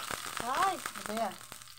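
Hot oil crackles and pops in a few sharp bursts as ginger and onion fry, under a steady sizzle, while a person talks over it.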